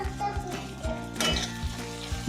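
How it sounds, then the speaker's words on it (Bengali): Ginger garlic paste fries in a pan and gets stirred, with a steady sizzle, occasional scrapes of the spatula and soft background music. "দিয়ে আবারও খুব ভালো করে নেড়ে চেড়ে আমি এখানে ভেজে নেব আদা রসুনটা"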